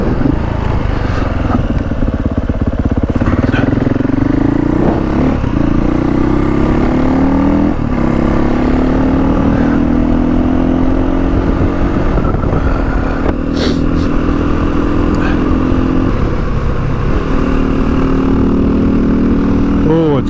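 Beta 480 ADV motorcycle engine droning steadily while riding on a bright day, with rising and settling revs and wind noise throughout, loud and close.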